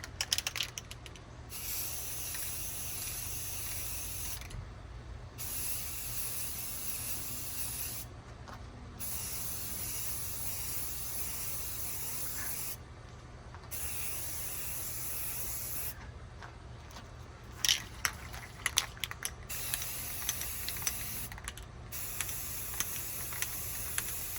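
A spray paint can sprays a rifle in repeated hissing bursts of several seconds each, separated by brief pauses, then shorter quick spurts and rattling clicks near the end; close and fairly loud, with no talking.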